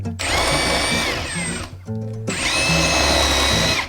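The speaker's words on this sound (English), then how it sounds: "I couldn't get the drill to drill the holes into the wall." A power drill whines loudly as it bores into a home wall, two long bursts with a brief pause between them, motor pitch wavering under load.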